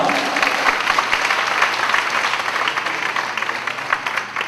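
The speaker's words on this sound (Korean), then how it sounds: "박수 환영합니다." A church congregation applauds in welcome for a guest pastor at the opening evening service of a ministers' summer seminar: dense, loud, sustained clapping that fills the room without a break.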